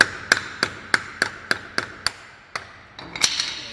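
Sharp metallic taps as a long screwdriver is hammered onto a swollen Ford wheel nut, about eight evenly spaced close strikes followed by a brief scrape and clatter.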